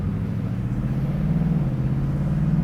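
A 2024 Ford Mustang 5.0 V8 convertible with a 10-speed automatic pulls past a diesel, its steady low engine drone heard from inside and rising slightly in pitch as it accelerates.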